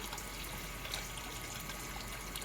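Water trickles steadily while being collected during a shortage, a faint, constant broadband stream with no pauses and no voices.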